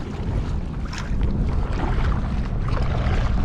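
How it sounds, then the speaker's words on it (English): Strong gusty wind buffeting the microphone in a continuous low rumble on a kayak, with faint water sounds underneath. "It's a little windy where we're at."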